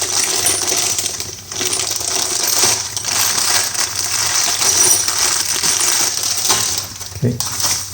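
Metal screws and washers clattering and jingling as they drop and shift, a busy run of small bright clinks with a sharper knock near the end.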